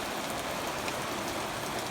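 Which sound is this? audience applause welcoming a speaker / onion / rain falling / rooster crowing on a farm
rain falling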